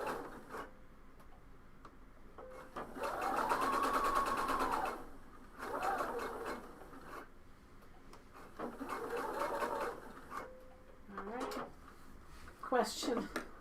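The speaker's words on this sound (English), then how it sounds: "I'm going to sew the other end, and then we'll press it" A sewing machine stitches fabric for a coat in bursts of fast, even mechanical whirring, with pauses between runs, close by, while someone talks over and between the stitching.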